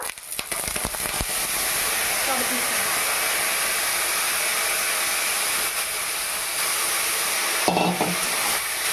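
Banana blossom frying with browned onions in a pan gives a loud, continuous sizzle, broken by the scrape and clatter of stirring near the start and again near the end.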